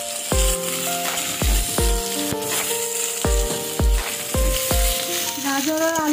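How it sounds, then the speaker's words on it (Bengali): Carrots and potatoes fry in a pan for khichuri, hissing steadily beneath a series of ringing metallic taps and scrapes as a spoon strikes the pan at irregular intervals. "গাজর আর আলুটাকে কিছুক্ষণ আমরা ভেজে নিয়েছি"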